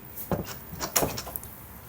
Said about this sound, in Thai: ประตูนี้ครับเป็นประตู m a n g r o v e Door